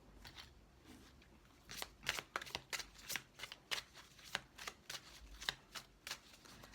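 A deck of cards for a reading is shuffled close by, quiet at first and then a run of crisp riffling bursts in an uneven rhythm, with no one speaking.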